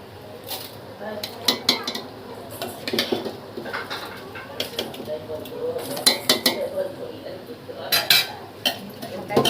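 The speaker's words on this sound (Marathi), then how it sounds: "तांदूळ घेतले धुवून ते टाकते आता." Washed basmati rice added to a cooking pot for Hyderabadi biryani, with repeated close metallic clinks and scrapes of utensils against the pot in uneven bursts, with no voices.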